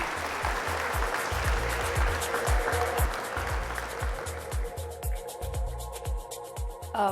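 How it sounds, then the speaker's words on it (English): Round of applause from an audience at a business summit after a speaker is introduced, dense clapping at full strength that thins and fades toward the end. "Give a round of applause to her, please."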